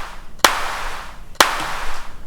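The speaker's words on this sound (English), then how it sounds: "Here we are, a heavily compressed clap sound." Two heavily compressed clap hits from a Modor DR-2 drum machine, sharp and punchy, each followed by a sustained noisy tail, spaced about a second apart and heard alone.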